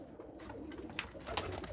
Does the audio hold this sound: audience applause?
no